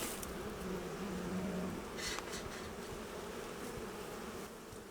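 Honeybees buzz around a hive frame being gently positioned, a continuous close, droning hum with a brief louder swell near the start and a faint knock midway.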